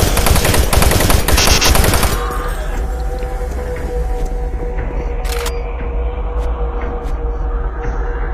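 Gunfire in the DOOM video game, a loud rapid burst of shots for about two seconds, then a quieter stretch with a few sparse sharp reports over a steady background hum.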